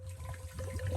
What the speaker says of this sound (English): when you add the water to this, you'll hear it fizzling and you'll kind of hear it bubbling